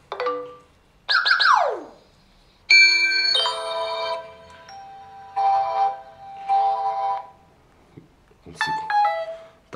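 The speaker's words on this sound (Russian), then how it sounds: "Включаем общий и звонок сюда. Рингтон, чтоб послышали." A LEAGOO V1 phone plays a ringtone through its loudspeaker, a series of bright electronic chimes and melodic tones in separate bursts with short pauses between them, heard close and alone.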